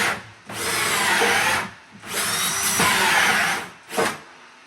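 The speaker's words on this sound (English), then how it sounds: "I'm drilling through to get the pipes for the washing machine" Power drill boring through a wall to run pipes for a washing machine in a laundry room makeover, two long loud grinding bursts separated by a short pause, then a brief final burst, no talk.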